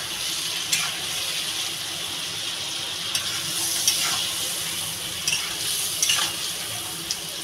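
Kulekhara greens and prawns get stirred in a pan, a soft continuous sizzle under scattered sharp clinks and scrapes of a utensil against the metal. The scraping comes in irregular taps, close and moderately quiet.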